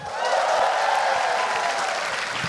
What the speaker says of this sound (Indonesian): Sekali lagi boleh tepuk tangan buat Arif Brata.